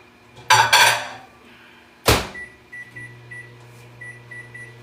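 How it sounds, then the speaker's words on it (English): Kitchen sounds as a Pyrex dish of water goes into a microwave to boil: two loud clattering knocks of glass and door, a sharp clunk, then a low steady hum with faint repeated beeps. "I'm going to put it in the microwave to boil"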